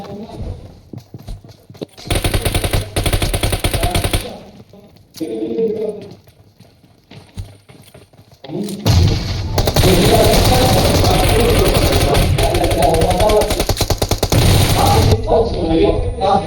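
Automatic gunfire in the PUBG battle royale game, Georgopol map: bursts start near 2 s and a long sustained volley runs about 9 to 15 s, loud and close, with people talking over the gameplay.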